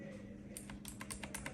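Typing on an Acer Predator Aethon 500 mechanical keyboard with Kailh Blue switches produces a quick burst of crisp, clicky keystrokes close by, beginning after a short quiet moment.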